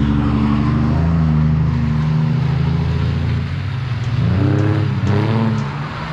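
A drifting car's engine revs hard and steady, apparently held in second gear, with the pitch rising and falling sharply near the end as the throttle is worked; loud and fairly close, no voices.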